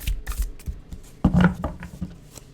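Oracle cards are shuffled by hand in a series of soft, quick riffling and tapping sounds, close and fairly quiet, with one brief louder rustle midway.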